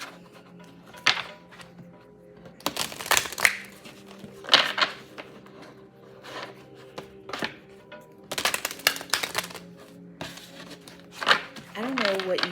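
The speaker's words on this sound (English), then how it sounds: "So let me go ahead and do our shuffles." Cards of an oracle deck are shuffled in several short papery bursts, with quieter gaps between them and a brief rustle near the end.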